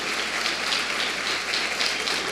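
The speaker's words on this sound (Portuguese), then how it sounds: "Aplauda a palavra de Deus" A church congregation applauds together in a steady, dense patter of many hands, even and sustained throughout with no talk over it.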